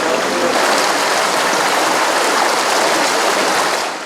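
A shallow, muddy river in Zakarpattia runs past, flowing water making a loud, even rushing hiss that holds steady with no voices.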